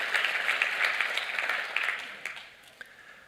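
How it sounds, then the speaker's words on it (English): Audience applause at a tech conference, dense clapping that holds steady and then thins out and fades toward the end. "So can I get the next round of applause for all the very cool people here?"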